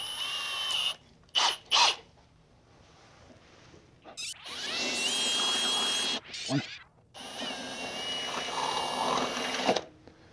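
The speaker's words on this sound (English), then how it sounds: "Gonna step up to the larger drill bit." A power drill whirs in sustained bursts, drilling pilot holes then larger holes for a rear hatch ladder on a 5th-gen Toyota 4Runner, spinning up and cutting for a few seconds at a time, loud and close, with brief pauses.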